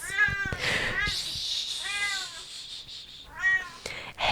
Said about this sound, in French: Mais t'es pas obligé de crier quand tu miaules.